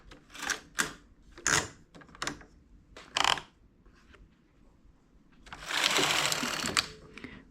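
Hand knitting machine carriage working in 1x1 needle selection for English rib knitting: a run of sharp, close clacks and rattles, then a sustained rasping sweep of the carriage across the bed.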